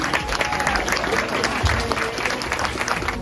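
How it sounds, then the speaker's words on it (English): An audience of students claps for classmates during school morning announcements, steady dense applause held loud and close for the full span. "All right, guys, let's give these students a round of applause."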